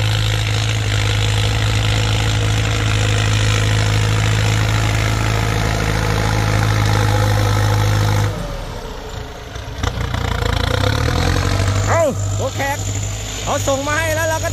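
Massey Ferguson 5000 turbo and 6640 turbo tractors pushing soil, a loud steady diesel engine drone that dips near the middle and then returns with revving swells, with people talking over it.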